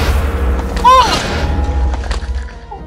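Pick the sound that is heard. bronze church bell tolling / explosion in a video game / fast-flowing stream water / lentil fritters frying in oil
explosion in a video game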